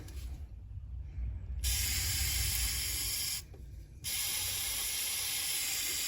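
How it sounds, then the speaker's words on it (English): Two long bursts of brake cleaner aerosol spray hiss onto a Honda Jazz front brake, loud and close, separated by a brief pause, with a short quieter stretch before the first burst. "Spray down with the brake cleaner again, just to wash it all out."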